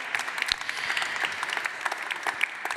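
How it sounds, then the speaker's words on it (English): A conference audience in Copenhagen claps to welcome an architect onto the stage, a dense, moderately distant patter of many hands filling the whole stretch without any voices. "that's your applause, of course."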